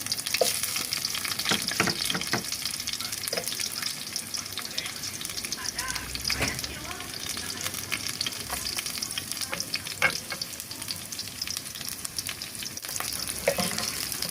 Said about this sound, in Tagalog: Lagyan na natin ng sibuyas.